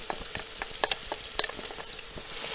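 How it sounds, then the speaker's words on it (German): Onions fry in a Dutch oven while being stirred for a kale dish, a close, soft sizzle punctuated by quick scraping and clicking stirs. "So, jetzt kommen die Zwiebeln aber rein hier."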